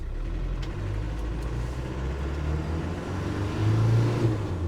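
A 1995 Land Rover Defender 90 with the 300Tdi diesel engine drives through the gears, a steady low engine drone heard from inside with smooth rises and dips in revs as it shifts.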